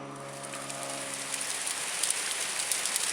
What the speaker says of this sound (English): It is hailing like crazy out.